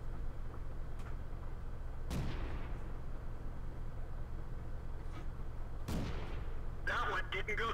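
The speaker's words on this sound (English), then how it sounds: "I'm just blind firing here, hoping I'm hitting it." Tank cannon shots fire in the World of Tanks video game, two sharp booming blasts spaced a few seconds apart over a steady engine-like rumble, with a burst of clattering game sounds near the end.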